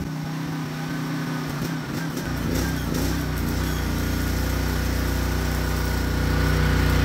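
A generator engine on a PK160 welder starts up and settles into a steady, loud running drone, close by and without speech.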